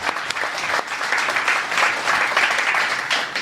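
A studio audience claps loudly and continuously for a few seconds on a live talk show, a dense, close wash of hands with no pause.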